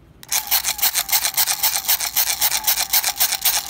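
A hand crank dynamo LED flashlight shaped like a pig is cranked steadily, giving a loud rapid gritty whirring rasp that pulses with each turn, close up and with no voices.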